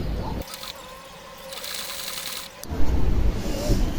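A sewing machine joins scrap-fabric pieces of a handmade chicken toy, starting at the underside of the tail. It runs in short, close bursts of quick stitching mixed with rustling fabric handling.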